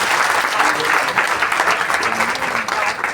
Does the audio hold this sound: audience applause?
yes